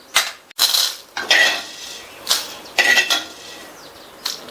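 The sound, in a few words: roasted spices transferred into a mixer jar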